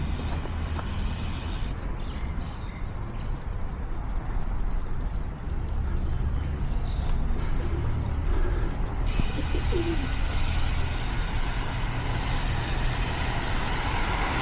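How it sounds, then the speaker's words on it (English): Pigeons coo softly in a Phitsanulok, Thailand street, their calls half buried under steady broadband traffic noise and passing vehicles heard from a bicycle. "Oh, baby pigeons."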